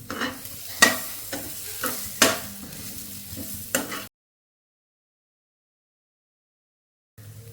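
A spoon scrapes and stirs banana through coconut in a pan, with a handful of sharp scraping strokes over a light sizzle, then a gap of silence before the sound briefly returns.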